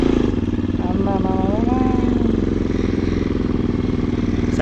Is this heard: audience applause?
no